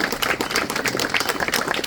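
A crowd at a national environmental protection award ceremony breaks into dense, loud clapping, a brief continuous burst of many hands with no talk.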